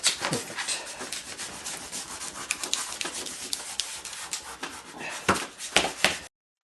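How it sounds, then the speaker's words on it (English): Homemade veneer hammer scraped firmly across glued wood veneer in repeated rubbing strokes, close and raspy, with a few sharper knocks near the end before it stops abruptly. "there's my homemade veneer hammer"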